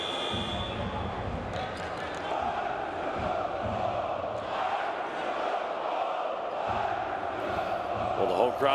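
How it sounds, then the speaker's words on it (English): Home crowd at a 2025 FIBA EuroBasket Qualifiers basketball game between Montenegro and Sweden roars and cheers in a large arena, a continuous rumble with rising shouts over basketball bounces and a commentator talking. "the home crowd getting into this one yet again"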